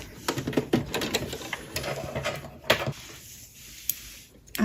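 A domestic sewing machine runs in short bursts of rapid stitching, a brief reverse back stitch at the end of a curved seam on a Christmas sewing project, close and moderately quiet, with small clicks and handling noise between runs.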